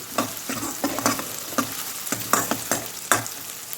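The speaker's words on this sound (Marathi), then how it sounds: "कांदा आपण मस्त फ्राय करून घेऊ" Chopped medium onion frying with garlic in a pan, stirred with a spoon in regular scraping strokes over a steady close sizzle, about eight distinct stirs across the stretch.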